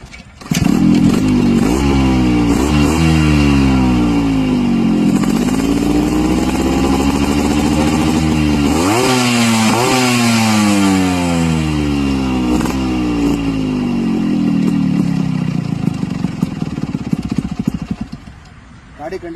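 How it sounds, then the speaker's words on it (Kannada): Two-stroke motorcycle, an RX-type bike offered for sale, starting up and revving, loud and close, with repeated rises and falls in engine pitch and a sputtering idle between blips. "ಹಾಗೆ ಗಾಡಿ ಸ್ಟಾರ್ಟ್ ಮಾಡಿ ತೋರಿಸ್ತೀನಿ ನೋಡಿ"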